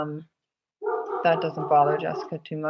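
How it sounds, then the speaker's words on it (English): A pet dog barks in a different room of the house. Its voice is muffled and sits under steady close speech throughout. "our dog is barking right now in a different room"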